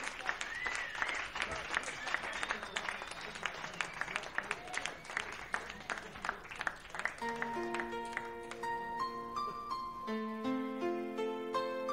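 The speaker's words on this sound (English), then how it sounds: "how about a great big one more big round of applause" A concert audience breaks into dense, sustained applause for the performers, loud and steady. Sustained musical tones rise through the clapping partway through and carry on as the applause continues.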